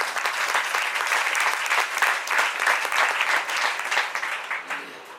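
A crowd gathered for an annual temple festival claps with hands raised overhead, loud dense applause swelling steadily for several seconds before tapering off, with faint voices mixed in.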